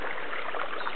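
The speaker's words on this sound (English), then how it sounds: "It's a little creek running in front, which was a nice surprise." Small creek running in front of the Aspen Cabin in the forest near Lakeview, Oregon, a steady close rush of trickling water with no pauses.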